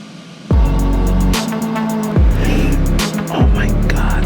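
The 1300-horsepower Nissan Hyper Force driving on Tokyo streets: a loud, steady motor drone with three sharp surges, each rising into a swelling pitch as the car pulls away, continuous throughout.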